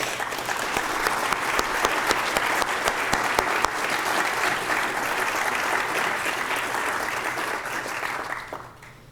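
An audience at a smart growth summit applauds warmly, a dense, sustained round of clapping that holds steady for several seconds before tapering off at the end.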